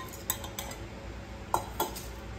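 A metal lid set onto a pot at home, giving a few light clinks and taps of metal on metal, close by and fairly quiet, with no talking.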